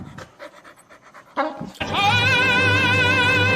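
Enemy dogs in The Last of Us Part 2 pant and whimper in rapid, close bursts before a loud sustained tonal sound takes over.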